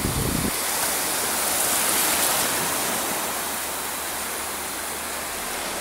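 A steady broadband wash of Mediterranean sea surf at Port de Sagunt, Spain, loud and continuous, with no distinct breaks or voices.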